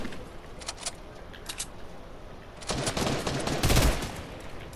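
Fortnite gunfire from an assault rifle crackles in bursts, faint at first and then louder and denser near the end, heard during splitscreen play with no talking.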